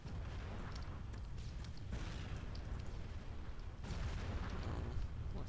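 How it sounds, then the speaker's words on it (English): Distant artillery fire and explosions rumble throughout a battle royale match in the video game Arma 3 on Altis, low and muffled booms rolling continuously under a steady noisy background. "Head towards the explosions."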